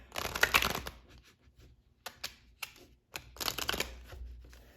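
A deck of oracle cards being shuffled by hand in short riffling bursts separated by brief pauses, close and crisp, with no talking over it.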